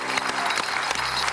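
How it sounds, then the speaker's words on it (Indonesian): Brief applause, a burst of clapping with a few distinct claps standing out, over a low steady hum. "tepuk tangan"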